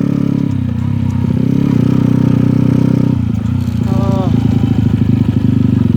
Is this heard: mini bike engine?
yes